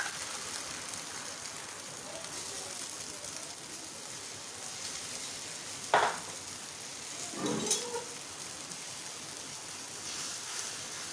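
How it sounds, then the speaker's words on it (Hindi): Egg batter sizzling in ghee on a low-flame pan while making anda paratha, a steady soft hiss with a couple of brief scraping stirs, no talking. "जो बैटर हमने बना के रखा है वो डाल दें"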